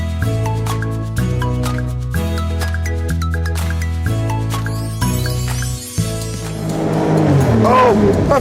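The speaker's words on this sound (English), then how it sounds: "I see a green race car. Oh, let's see if we can go have a race." An animated green race car revs up with a rising, roaring engine and a hint of tire squeal, rushing in toward the end beneath steady, loud cartoon music.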